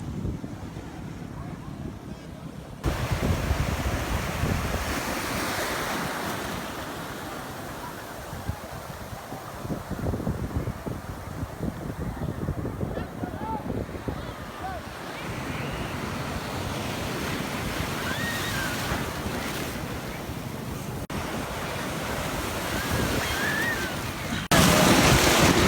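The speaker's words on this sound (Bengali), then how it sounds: "ঢেউয়ের ধাক্কায় পিছনে চলে যেতে হয়।" Ocean surf at Cox's Bazar beach rolls in with continuous washing roar and bursts of wind buffeting the microphone, close and loud, with occasional talk over it.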